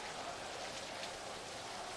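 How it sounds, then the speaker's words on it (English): Steady rain falls over an outdoor football game between Canada and Australia, a faint, even hiss of rainfall with no distinct drops or other sounds. "the rain here is going to be a factor, making that ball slippery"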